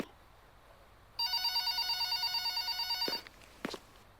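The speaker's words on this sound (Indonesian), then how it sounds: "ada telepon cuy" A telephone in the nurse horror video game Pikabuu rings with a loud, rapid electronic trill that goes on for about two seconds, then stops and a couple of short clicks follow.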